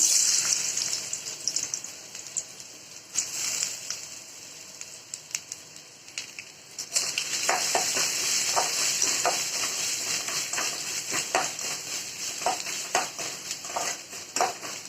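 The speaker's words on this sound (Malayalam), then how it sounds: "ഒരു 2 സ്പൂണ് നെയ്യ് ഒഴിച്ചു കൊടുക്കാം. ഇനി ഇതിലേക്ക് തേങ്ങാക്കൊത്ത് ഇട്ട് കൊടുക്കാം" Coconut pieces frying in a couple of spoons of ghee for a bamboo rice payasam, a steady crackling sizzle with stirring scrapes and louder spitting bursts, close up and without talk.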